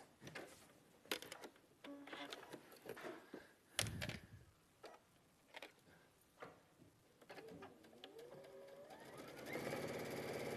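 A sewing machine stitches fabric in short bursts of rapid mechanical clatter separated by pauses, ending with a longer continuous run, fairly quiet and close, with no talk.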